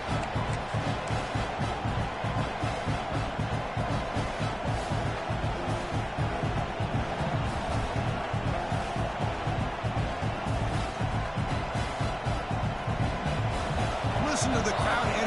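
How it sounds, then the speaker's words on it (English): Dense, steady stadium crowd roar from a college football video game set in Norman, Oklahoma, holding loud and continuous throughout with rhythmic pulses, like a packed home crowd early in the game. "Listen to the crowd energy here in the early going."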